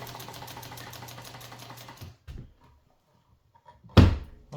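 A White model 265 sewing machine runs with a fast, steady mechanical whir for about two seconds, then stops, followed by a few soft knocks and a sharp thump near the end.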